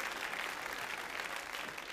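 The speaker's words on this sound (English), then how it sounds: "give all the ladies a big round of applause right now" A cruise ship audience gives a steady round of applause, a dense, even wash of many hands clapping at moderate volume throughout, without talk over it.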